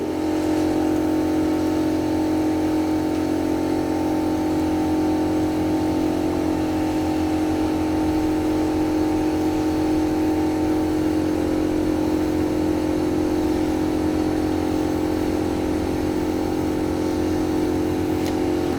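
A vacuum therapy device running continuously on skin, producing a steady, loud, motor-like hum and whir that holds an even pitch without pauses.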